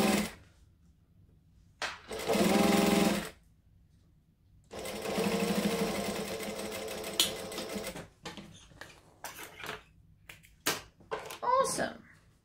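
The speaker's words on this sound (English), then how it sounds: "so I'm going to pop the next one in and just continue sewing along" A sewing machine stitches fabric in two bursts, a short one and then a longer steady run, with someone talking between and after them and a voice nearby.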